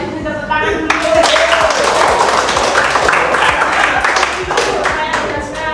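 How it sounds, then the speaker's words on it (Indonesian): A classroom audience claps together in sustained applause at a lesson on making pulp and paper. The clapping is dense, steady and fairly loud, and runs for several seconds. "bisa tepuk tangan dulu"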